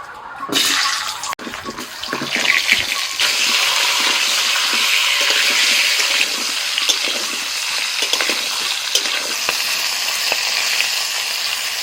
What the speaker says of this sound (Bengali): তেল গরম হয়ে গেছে পটলগুলো দিয়ে দিচ্ছি